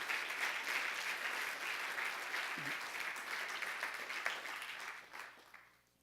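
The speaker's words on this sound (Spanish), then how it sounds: "Dele fuerte ese aplauso al Señor" Church congregation applauding during a Spanish-language worship service: sustained, fairly distant crowd clapping that holds steady for several seconds, then tapers off near the end, with no talk over it.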